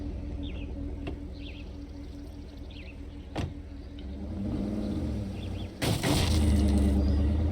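Truck in the video game State of Decay 2, its engine rumbling low and steady, rising in revs toward the end with a sharp thud and knock partway through; no talking.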